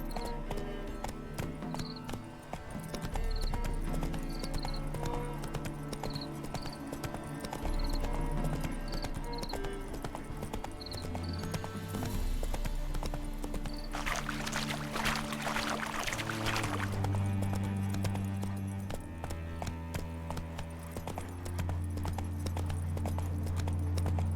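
Horse hooves clip-clopping at a steady gallop in The Witcher 3, a continuous rhythmic pattern under a game music score, with a brief rushing burst midway.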